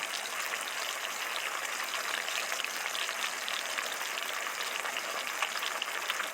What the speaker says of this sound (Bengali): কড়াইতে তেল দিয়েছি ফোড়ন দিয়ে দিলাম কালো জিরে কাঁচা লঙ্কা